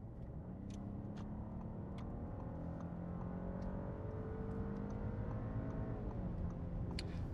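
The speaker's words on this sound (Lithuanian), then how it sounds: "dabar truputį pagazuokim ir tada pakalbėsim apie sąnaudas" An Audi A8 luxury sedan accelerates, heard from inside the well-insulated cabin as a low, smooth engine drone with rising tones climbing through the gears, steady and fairly quiet without talk.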